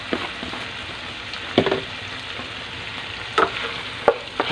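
Sautéed shrimp paste (alamang) stirred in a pan, with low frying sizzle under scattered spoon scrapes and taps against the pan, spaced a second or so apart, no voices.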